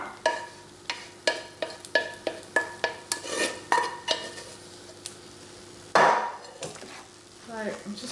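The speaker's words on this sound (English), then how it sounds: "And I'm going to mix these around until they're all well mixed in." Chunks of aubergine and sweet potato are stirred around a baking tray, giving a run of regular clinking, scraping taps from a utensil against the tray, ending in a louder clatter and a few softer scrapes.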